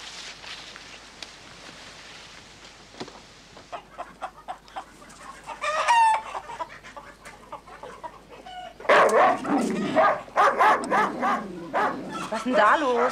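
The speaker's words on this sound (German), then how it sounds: "Dieser Köter ist über unsere Hühner hergefallen." A dog attacking chickens on a farm: frantic clucking and squawking hens mixed with barking, growing louder and more chaotic in the second half, with a person's voice heard at points.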